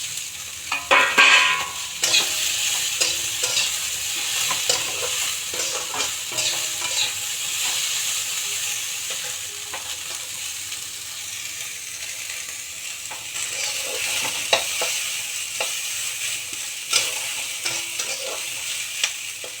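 Broccoli and green chilli stir-fried in a pan along with carrots, beans and peas: a steady close sizzle broken by repeated stirring scrapes and clacks, with no talking.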